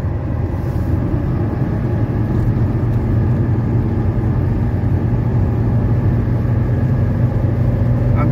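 A 1985 Mercedes 300CD engine under full-throttle acceleration gives a loud, continuous low drone that holds steady throughout, with no talking.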